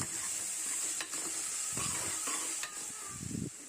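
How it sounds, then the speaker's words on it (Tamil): Onions with cinnamon and spices fry in a pan for chicken kulambu, a soft continuous sizzle with a few scraping stirs of a spoon, quiet and close, with no voices. "இது சேர்த்து கொஞ்சம் பொரிஞ்சு வந்ததும் நம்ம வெங்காயத்தை சேர்த்துக்கலாம். வெங்காயத்தை சேர்த்து நல்லா கிளறிட்டு"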